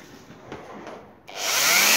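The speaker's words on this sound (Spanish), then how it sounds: "vamos a poner el taladro, debería volver a funcionar" An electric drill running off a modified UPS used for field work, faint rubbing and clicks at first, then the motor spins up into a loud, steady whir that continues to the end.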